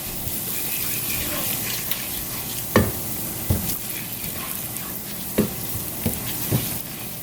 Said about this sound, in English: And you wanna just stir it around.